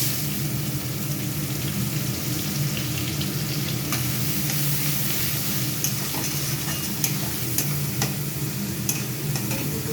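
Onion being added to hot oil with black cumin (kalonji), with garlic and mustard nearby, for a fish-in-mustard curry; a steady, close sizzle and crackle fills the whole stretch with occasional stirring ticks and no talk.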